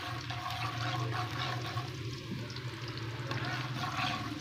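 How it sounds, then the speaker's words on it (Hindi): Garlic and ginger frying gently in ghee, a steady close sizzle with a soft bubbling hiss that holds evenly throughout, with no talk. "अब इसको हम हल्का सा फ्राई करेंगे।"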